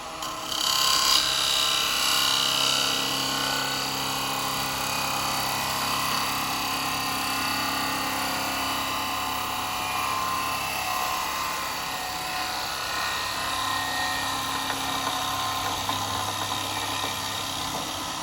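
A wood lathe spins a bowl blank while a carbide chisel cuts across it, a steady droning motor hum with a rough, scraping cutting noise held evenly throughout.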